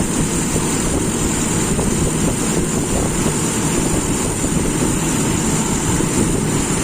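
A motorcycle engine runs at steady revs on its idle jet during carburetor air-screw tuning, a loud, unbroken drone holding constant throughout with no change in pitch or rhythm and no voices.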